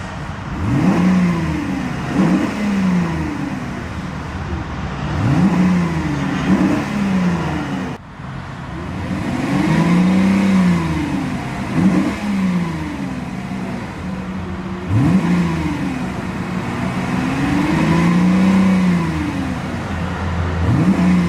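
A 1997 Mercedes-Benz S500 runs with a loud, close exhaust, revved repeatedly in rising and falling sweeps, with a few brief pauses between throttle blips and no talking.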